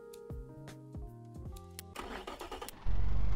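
In the racing game Automation, a simulated car engine cranks with rhythmic starter turns, catches and revs, then settles into a loud steady idle drone, with no talking.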